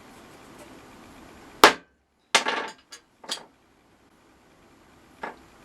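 Hammer taps on the fins of a heated Corgi Porsche 6 die-cast model chassis, one sharp strike, a pause, then a short cluster of three lighter taps and a final tap, close and crisp in a quiet room.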